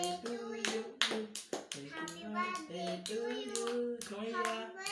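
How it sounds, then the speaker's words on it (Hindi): A child claps hands at a home birthday celebration, a series of sharp claps under people singing a birthday song close by. "ताली बजा ले।"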